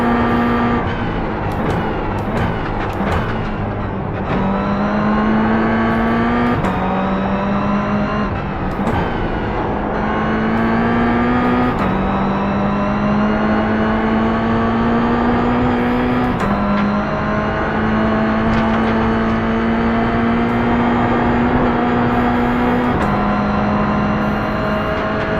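A Toyota GR86 race car engine in the iRacing simulator, loud and close, holding a steady high whine that rises through each gear and drops sharply at every shift, repeating through several upshifts with no talk.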